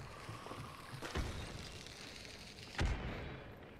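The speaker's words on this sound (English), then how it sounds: "They're throwing a bomb, Colton." In the video game Hunt: Showdown, a bomb explosion and gunfire sound as two sharp, moderately loud booming reports about a second and a half apart, over a low rumbling background.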